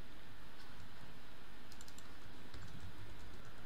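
Rapid keystrokes on a computer keyboard while typing code, a dense, steady patter of close clicks with a few brighter key taps near the middle, no voices.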